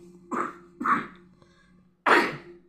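A person with a bad cold coughs three times, short harsh bursts heard close in a quiet room, the last one strongest, with a faint steady hum underneath.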